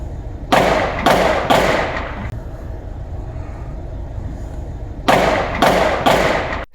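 Two bursts of three sharp, loud gunshots each, fired in quick succession outdoors just after 3 a.m., captured on CCTV, separated by a few seconds of low background hum.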